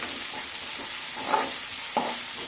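Chopped onions and green chillies sautéing with a little salt in a pan, a steady soft sizzle with a couple of brief stirring scrapes, close and alone.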